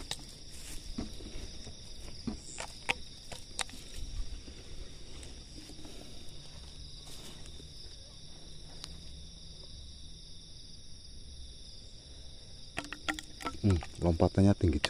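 Field crickets caught in a rice paddy chirp in a steady, high-pitched trill throughout, with scattered rustles and handling noises and a burst of close movement near the end.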